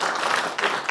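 An audience at a Hana party-branch local election forum gives a short burst of applause: a dense, continuous wash of clapping from a crowd that dips briefly and resumes.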